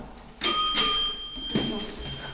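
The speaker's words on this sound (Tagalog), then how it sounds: "Doorbell tayo." A home doorbell chimes near and clear in a few bright, ringing tones that decay, with a second softer chime after a short gap and faint background noise.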